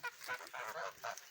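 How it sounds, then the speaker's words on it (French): Several geese honk in close, loud bursts on a poultry farm, calls overlapping in quick irregular succession with no talking. "vous voyez ces oies là"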